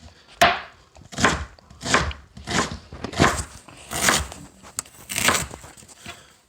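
A knife chopping onions and mushrooms on a cutting board, about eight firm, evenly spaced cuts, close and crisp with no talking.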